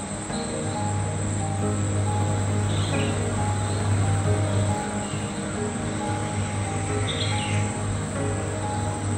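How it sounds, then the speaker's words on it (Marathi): Morning birdsong in a village: scattered high chirps and tweets ring out over a steady, dense background hum of insects and distant birds, with no voices. "पक्ष्यांचं किळबिळाट आहे, लांबून कुठेतरी मोराचा आवाज येतोय"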